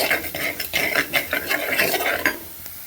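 Chickpeas go into a pan of frying garlic, shallots, curry leaves and chilli, giving quick rhythmic scraping and stirring bursts with a faint sizzle underneath.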